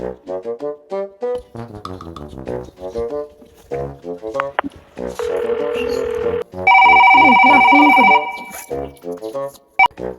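In a comic Bangladeshi Eid skit, a telephone rings. Talk comes first, then a loud, steady electronic ring and warble burst in for a few seconds before cutting off, followed by more speech.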